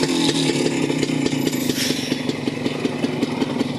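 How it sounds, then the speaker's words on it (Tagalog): A two-stroke tricycle motorcycle engine runs up close with a steady, rapid, buzzing putter and metallic clatter, never pausing. "Ayan yung aking tricycle guys."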